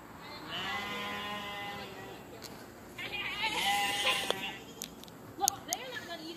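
Goats bleat repeatedly on a farm with chickens about, the calls fairly close and mixed with other animal noise and a few sharp knocks toward the end.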